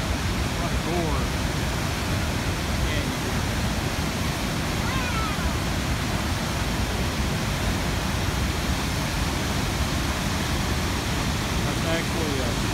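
Water pours over a man-made dam spillway into a gorge below a lake at Desoto State Park on Lookout Mountain, a constant, dense, loud rushing roar that holds steady throughout.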